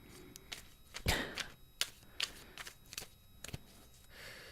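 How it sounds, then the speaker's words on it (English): Tarot cards being shuffled up close, with crisp riffling flutters and soft slaps of the deck between bursts, no talking. "Shuffle, shuffle, shuffle."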